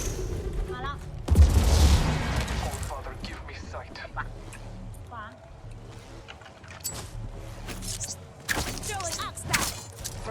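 Gunfire in the video game Apex Legends, with scattered shots, booms and bursts of fire at varying distances under excited speech from players.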